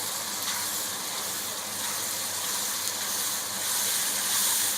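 Tomato sizzles in hot spiced oil in a karahi, giving a steady close hissing crackle with no talk, swelling slightly toward the end.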